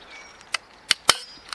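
A Kangs multi stapler drives staples with sharp, loud snapping clicks, three or four distinct cracks spaced unevenly across a second and a half, close up with no talking.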